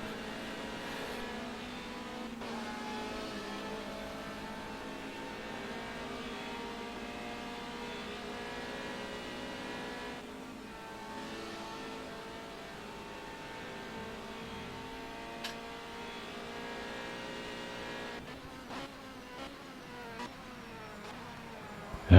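Ferrari and Corvette GT race cars battling at Spa in a racing game, engines droning steadily with shifting harmonic whine through the run, a sharper burst of revving and gear changes near the end.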